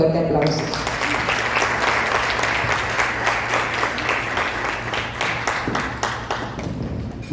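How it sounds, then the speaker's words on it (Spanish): Dense, loud audience applause fills the whole stretch at a Spanish-language lecture on risk management, steady and continuous, easing off slightly toward the end as the guest speaker is welcomed. "lo recibimos con un fuerte aplauso"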